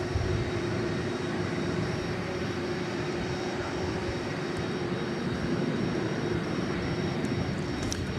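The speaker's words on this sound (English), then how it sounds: "you are looking at the Qatar A350-1000, Flight 732 to Doha" A Qatar Airways Airbus A350-1000 jet at DFW airport at night, giving a loud, continuous engine roar with a steady tonal whine running through it, holding at an even level for the whole stretch.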